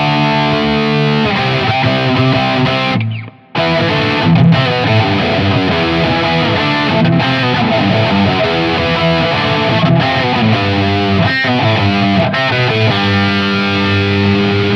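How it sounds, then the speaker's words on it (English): Aklot Strayloom electric 12-string guitar played with heavy distortion, thick chiming chords ringing continuously, with a brief dropout near the start before the playing resumes. "I'm just gonna throw on a little bit of distortion here for you just a second."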